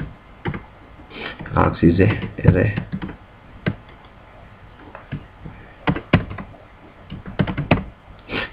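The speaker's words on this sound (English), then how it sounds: "Time is running out, so I am typing fast." Fast clicking of computer keyboard keys comes in quick clustered bursts with short pauses between them, close and crisp, while someone speaks at intervals.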